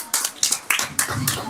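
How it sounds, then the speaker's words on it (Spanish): Clapping for a student at a school event, five sharp, evenly spaced claps over about a second and a half, close and moderately loud. "Aplausos para él."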